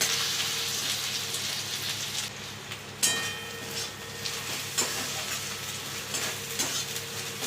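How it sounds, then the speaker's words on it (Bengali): Masala spice paste with sugar frying in a pan for a taro-leaf dish with hilsa fish head gives a steady, soft sizzle with occasional stirring scrapes and clicks, heard alone at moderate level. "ভালো করে মশলাটা কষিয়ে নেব।"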